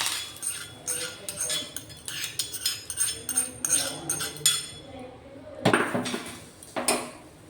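Semolina idli batter whisked in a bowl: a quick run of sharp metallic clinks and taps against the bowl's side, then a brief pause and a couple of louder scraping strokes, all close and fairly soft.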